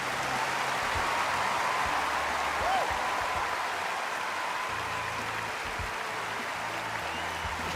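Stadium crowd applause at a magic show in Düsseldorf, a broad, even hiss of many hands clapping at a distance that holds steady throughout, with a voice speaking over it.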